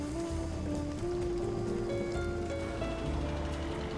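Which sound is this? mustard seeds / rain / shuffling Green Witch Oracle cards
rain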